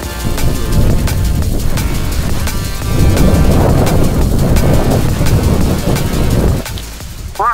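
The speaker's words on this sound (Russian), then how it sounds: "Ветер все-таки достаточно сильный, он изматывает." Strong Arctic wind roars and buffets steadily against the microphone, a dense continuous rumble with no voices.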